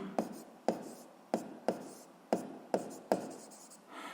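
Close pen strokes on paper while writing out a seventh-grade physics exercise, seven short scratchy strokes in a steady rhythm, quiet and without speech.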